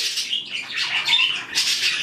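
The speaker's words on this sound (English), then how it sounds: "Here's some of my birds." Pet birds in a home bird room chirp and squawk in a steady, overlapping chorus of high calls, moderately near, with no talking.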